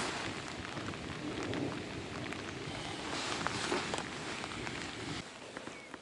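Heavy rain pours steadily at a fishing spot on bottom-rod gear for crucian carp, a dense close hiss with scattered drop impacts and faint low rumbles, easing slightly near the end; no talk.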